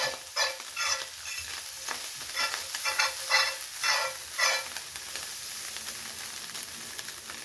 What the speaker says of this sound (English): I figured I might cook up real well in this Lodge carbon skillet